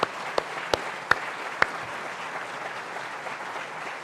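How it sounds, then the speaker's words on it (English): Audience applause for a lecturer at a lecture series event, a dense steady wash of clapping from a hall crowd with a few sharper claps standing out early, continuing evenly to the end. "Let's have another round of applause for the wonderful Robin Wall Kimmerer"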